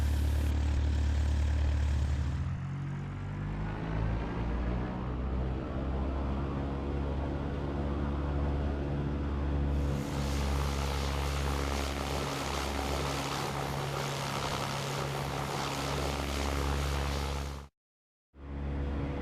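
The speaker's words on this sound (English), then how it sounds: "Cleared for takeoff, runway 25, Cessna 52 Kilo Alpha." A Cessna propeller airplane takes off from runway 25 and climbs, its engine a steady, loud drone with a deep harmonic hum that strengthens partway through, ending in a brief abrupt dropout.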